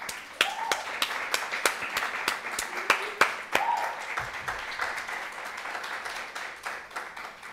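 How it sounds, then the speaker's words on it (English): Audience applause for presenters closing a bilingual Caribbean academic conference session, a steady patter of claps with a few sharp louder claps, moderately near, while some voices murmur underneath. "Let's give these presenters another round of applause."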